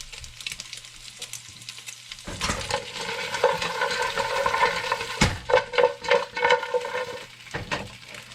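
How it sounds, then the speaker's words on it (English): Olive oil sizzles and crackles in a pot while making pilau rice, loud and close, with stirring and clattering noises breaking through the steady hiss. "you hear that sizzling?"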